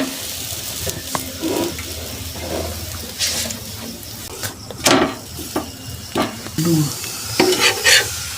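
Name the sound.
potato-stuffed paratha frying in a pan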